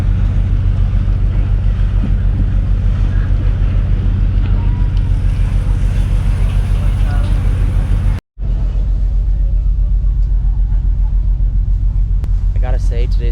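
Passenger ferry from Coron to Manila cruising in a breeze, with a deep steady engine rumble, wind buffeting the microphone and water rushing past, loud and continuous apart from a brief cut.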